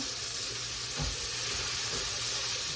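An open pot of cassava at a rolling boil gives a steady, close hiss and bubbling roar that stays even for a few seconds, with one soft bump partway through and no talking.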